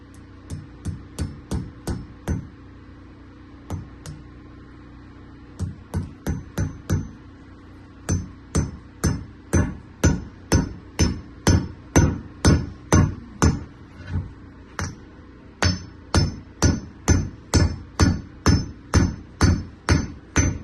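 A metal wedge is driven into the head end of a replacement sledgehammer handle with a steady run of sharp hammer strikes, one short pause in the middle, the blows close, loud and ringing with nobody talking.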